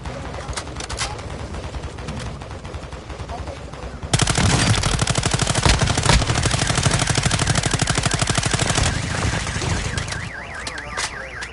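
Sustained automatic gunfire in a Call of Duty DMZ match, a dense loud burst of rapid shots lasting several seconds over quieter background game ambience with scattered distant shots.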